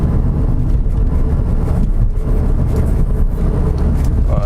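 Ford Focus ST engine under way on a neighborhood street, a steady loud low drone and road rumble that fills the whole stretch without letup.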